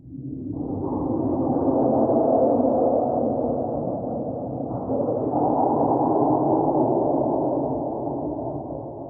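Soundpaint 1974 Jagra synth, Unreal Worlds patch with reverb added by the mod wheel, a broad, washed-out sustained pad that swells in, holds, and gently fades, heard alone.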